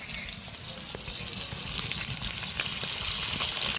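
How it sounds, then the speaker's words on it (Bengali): Chopped carrots frying in white oil in a kadai give a close, steady, crackling sizzle that swells slightly louder toward the end, with light stirring noises mixed in. "প্রথমে ভেজে নিব গাজর।"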